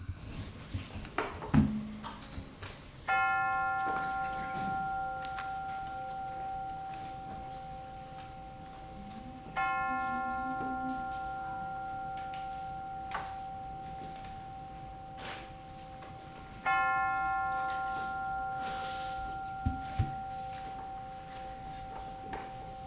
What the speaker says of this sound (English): let us center our hearts and minds with the ringing of the chimes